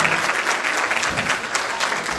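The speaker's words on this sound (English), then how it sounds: "Let's give God a hand clap of praise" A church congregation clapping their hands together, a dense burst of steady applause filling the room.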